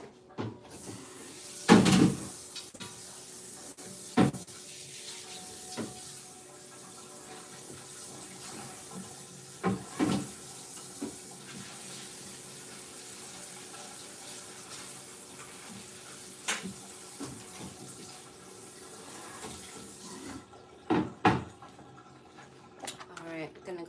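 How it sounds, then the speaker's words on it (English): Water runs from a kitchen tap as a cutting board is rinsed, a soft steady flow broken by sharp knocks and clatters of the board and nearby cupboard or sink items. "I'm gonna go ahead and rinse this board off again"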